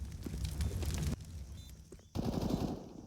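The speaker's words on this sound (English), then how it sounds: "A couple of stray bullets on the push." Rapid gunfire bursts in Counter-Strike during a professional ESL Pro League esports match on the Ancient map, dense fast shots broken by a brief lull, then another loud volley.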